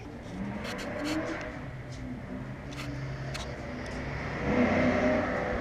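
A Ford Mustang drives past outside, its engine note a steady broad rumble that swells near the end as the car draws closer, with no talk over it.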